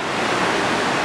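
Rushing river water at the confluence of the Myagdi Khola and Kali Gandaki, a loud, broad, steady roar of flowing water heard close, with no talk.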